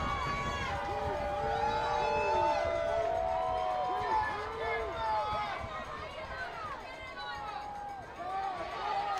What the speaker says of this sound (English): you're starting to feel this Husky crowd getting into it. Boy, it's loud.